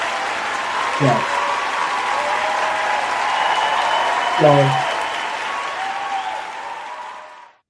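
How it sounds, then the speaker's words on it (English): Studio audience applause rolls on steadily beneath a radio talk show host and a guest who speak briefly over the clapping, which gradually fades out toward the end. "let me get a round of applause"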